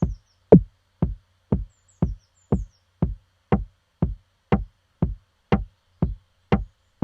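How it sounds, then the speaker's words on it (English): A knock-like snare drum sound sampled from a breakbeat repeats in an even, steady pulse, about fourteen sharp, punchy hits with short decays and silence between them. "So we'll call that our snare, or knock."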